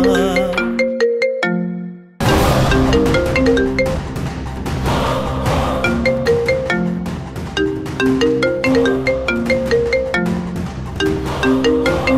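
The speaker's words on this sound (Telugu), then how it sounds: "నా కాల్ కట్ చేయకు లక్ష్మి, నీతో మాట్లాడాలి. ప్లీజ్ కాల్ ఆన్సర్ చేయి." A phone rings with an incoming call, playing a loud melodic ringtone of repeating tonal phrases. A brief opening fragment cuts off, then the full ringtone plays steadily and alone.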